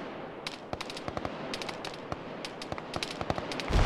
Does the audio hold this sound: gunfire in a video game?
yes